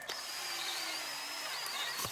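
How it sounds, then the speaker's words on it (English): A high-pitched drill with a 5/32-inch bit whines steadily close by as it bores into a holster, its tone wavering slightly, fairly quiet overall. "I'm going to mark that side and drill that"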